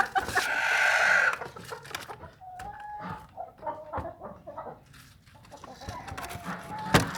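A blind hen clucks in short, irregular bursts, close by, alongside other farmyard fowl, with a loud hiss of noise at the start and a sharp knock near the end.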